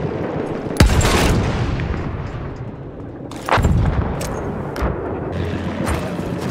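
Rifle fire in Battlefield 1 multiplayer Conquest: heavy rounds crack close and loud around 0.8 and 3.5 seconds, with smaller shots and a steady roar of distant battle filling the gaps.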